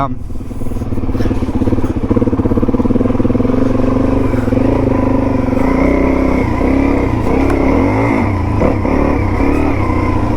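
A Suzuki DRZ400E single-cylinder dual-sport motorcycle engine drones and revs loudly while being ridden, pitch rising and falling through the gears, with a rider speaking over the close engine noise.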